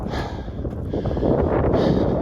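Strong wind buffets the microphone on a backpacking hike near Landslide Lake, a loud, rumbling roar that swells and builds over a couple of seconds with no talking.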